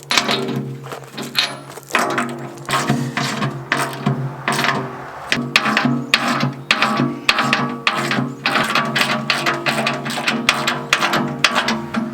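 A hand ratchet tightens bolts on a budget steel edge fitted to a Kubota tractor bucket, with fast runs of sharp clicking pawl strokes repeated close up over many seconds.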